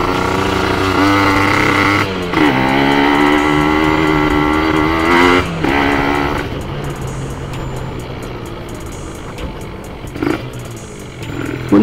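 A motorcycle with a TM32 carburetor is ridden on a test run, its engine droning loudly close by, rising and falling through revs and gear changes.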